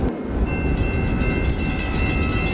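Train pulling into a station in the Trainz railway simulator, a steady loud rumble of wheels and carriage noise with a sustained tonal whine, no talk over it.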